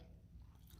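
Close, wet chewing and crunchy biting, apparently on pizza, sounds right by the microphone in a quiet room as a short burst of mouth noises with no talk.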